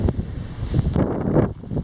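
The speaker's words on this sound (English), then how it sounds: "It's extremely windy today" Strong wind gusting across a steep, snowy mountainside near an old mine waste pile, a loud, steady roar buffeting the microphone with rising and falling surges throughout.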